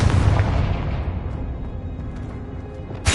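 A Confringo blasting spell in Hogwarts Legacy bursts with a loud booming explosion that rumbles and slowly fades, followed by a sharp new burst at the very end.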